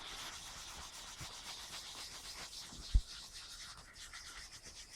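A clean cloth rubs over a wooden air rifle stock during restoration, producing soft, steady scrubbing strokes close by with one brief knock partway through.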